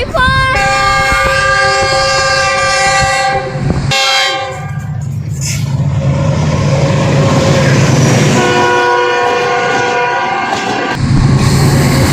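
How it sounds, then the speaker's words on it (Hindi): Green Line Express train arriving at Mandra railway station, its horn blaring in long tones at the start and again later, over the rumbling clatter of wagons rolling past close by, with people talking now and then. "और अभी उस तरफ से आने वाली है ग्रीन लाइन एक्सप्रेस जिसका सिग्नल भी डाउन हो गया है।"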